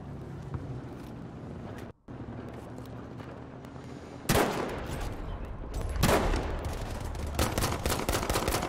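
Pistol gunfire in the Battlefield V beta rings out as sharp, loud reports over a steady rumbling, wind-like background, then grows into denser bursts of shooting toward the end.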